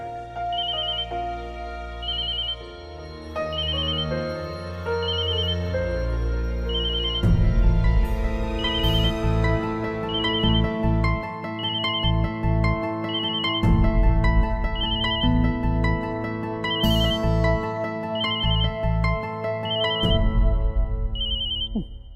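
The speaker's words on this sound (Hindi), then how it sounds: "अपना फोन उठाओ।" A mobile phone ringtone plays a repeating melodic pattern for over twenty seconds, loud and close, over a background music score in a Hindi TV drama scene, with no talking.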